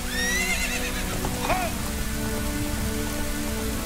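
Steady rain hisses throughout a scene in The Legend of Zelda: Ocarina of Time, while a horse whinnies briefly near the middle and low game music plays underneath.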